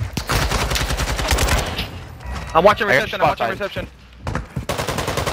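AK rifle fire in an online shooter game, heard as rapid bursts of close, loud shots in quick succession, broken by short pauses, while a player talks over the gameplay.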